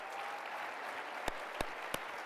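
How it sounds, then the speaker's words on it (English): Steady applause from an audience honoring track athletes at the Bowerman Presentation awards ceremony, a continuous wash of clapping with a few sharp, close claps standing out near the end. "We want to applaud the great athletes, the great humans you have here."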